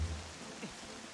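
Steady, soft rain hiss fills a rainy, foggy scene in the video game Twilight Princess, with no distinct drops standing out from the faint wash.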